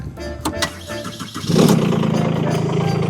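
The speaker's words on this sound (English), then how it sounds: "Classic Kubota engine." A Kubota diesel engine on a Rippa R13 mini excavator cranks with a few uneven turns, then catches and settles into a loud, steady rumbling idle close by.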